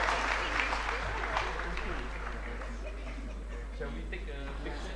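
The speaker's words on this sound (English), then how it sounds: "let's give them another round of applause for a wonderful discussion" Audience applause after a panel discussion at a freight forwarders' field meeting, a broad, sustained clapping from a large crowd, moderately loud with voices and a low hum underneath.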